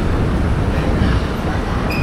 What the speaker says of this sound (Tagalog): Dito tayo sasakay ng LRT.